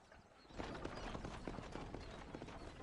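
Horse hooves in the Red Dead Redemption video game clip-clop in a quick, even trot, quiet and fairly distant, with no voices over them.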